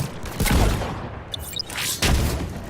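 Shotgun blasts in Mass Effect 3 multiplayer, two loud booming shots about a second and a half apart, with small game effect sounds between them.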